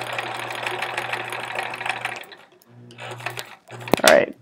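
A sewing machine stitches quilt fabric in a fast steady whir, pauses briefly, then runs a short back-tacking burst before a sharp snip-like click near the end, close and alone.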